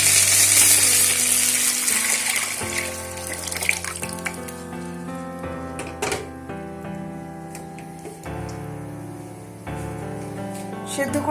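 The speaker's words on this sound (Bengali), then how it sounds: "মশলাটাকে একটু ভেজে নেব।" A spice mix frying for a mixed vegetable dal with cauliflower, carrot, beans and peas gives a steady, close sizzle and crackle. Stirring clinks and background clatter run through it.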